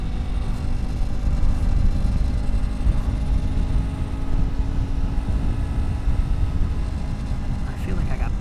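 A Yamaha MT03 motorcycle's engine drones steadily while riding, a continuous close rumble blended with rushing wind noise that holds at a constant level throughout.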